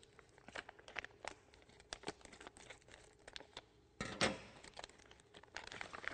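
Close scissors snip and crinkle through the plastic packaging of Epson SureColor T-series printer ink cartridges in a string of sharp cuts, ending with a louder rustling tear.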